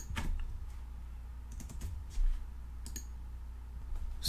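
Typing on a computer keyboard, with a scattering of light key clicks and taps at close range over a low background hum and no speech.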